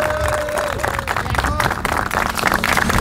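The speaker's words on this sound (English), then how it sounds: "go ahead and give yourselves a round of applause" Applause from the audience at a city council meeting on a street naming, steady clapping mixed with crowd murmur and a voice talking over it.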